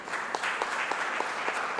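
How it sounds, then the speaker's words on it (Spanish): An audience claps in a short, steady burst of applause heard at moderate distance, with a hall-like wash and no voices over it. "Un aplauso, por favor."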